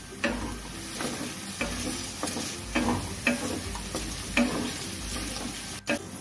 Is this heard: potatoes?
yes